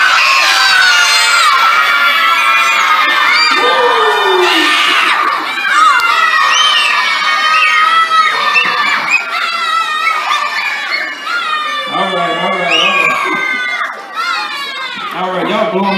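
A crowd of children at a winter literacy night book reading shouts and screams loudly and continuously, a dense wall of high-pitched voices close by with brief dips in volume.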